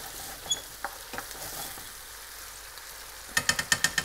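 Marinated shrimp cooking in a pan give a soft, steady sizzle, broken by a few light clinks and taps early on and a quick run of sharp utensil clicks near the end.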